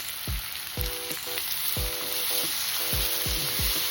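Chopped tomatoes frying in a pan for vegetable rava pulao, a steady loud sizzle with knocking thumps of a utensil against the pan; no talking.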